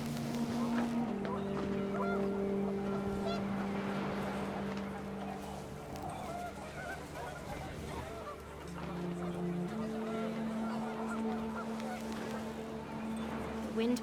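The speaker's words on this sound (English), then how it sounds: "The wind picked up, and panicked geese appeared and quickly went." Panicked geese honk in gusting wind in the video game What Remains of Edith Finch, a run of drawn-out, fairly close calls over a windy wash, with a voice talking across them.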